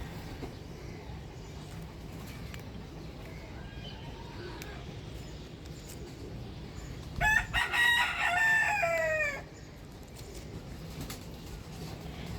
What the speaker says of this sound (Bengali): আমার মোরগে বাঘ দিচ্ছে